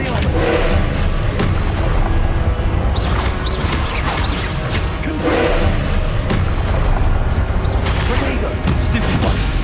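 Expelliarmus spell cast in the Hogwarts Legacy video game, heard in a dense stretch of magical combat with booming thuds, crackling bursts and repeated impacts, loud and continuous.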